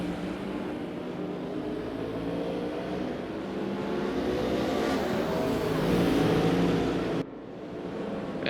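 Ford Mustang IMSA GTO race car engines in a racing video game at the Salzburgring, a steady loud engine drone with rising revs, running continuously and cutting briefly near the end.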